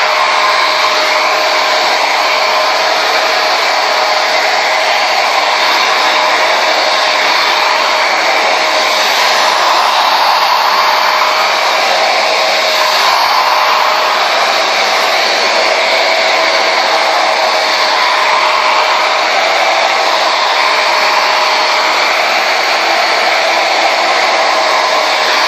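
A Conair Yellow Bird hair dryer blows in a loud, constant airy roar with a steady motor whine, unbroken and close throughout, with no talking.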